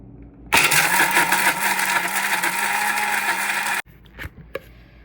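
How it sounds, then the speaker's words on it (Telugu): A kitchen mixer grinder whirs loudly, grinding roasted laddu ingredients together with dates for about three seconds, then stops abruptly, leaving a few faint clicks and knocks. "ఇప్పుడు దీన్ని మొత్తం నేను మిక్సీ పెట్టిస్తాను మెత్తగా."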